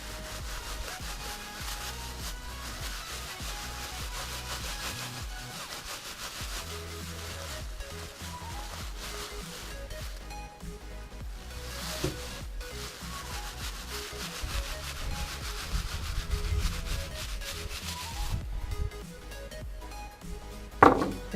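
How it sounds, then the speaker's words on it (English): A knife saws and slices through a lake trout fillet up close, soft rubbing and scraping strokes continuing steadily, with a brief knock near the end and no talking. "Slide the angle of your knife and just cut right down here."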